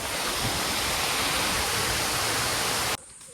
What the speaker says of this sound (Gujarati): ધોધ જાય છે તમે જોઈ શકો છો ખીણમાં સીધો